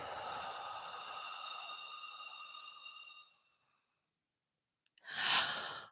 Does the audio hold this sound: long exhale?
yes